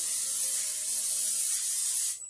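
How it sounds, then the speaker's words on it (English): Cooking spray hisses steadily from a can onto a 9 by 13 inch cake pan, one continuous close, bright spray lasting about two seconds before it stops. "first thing I need to do is spray my pan"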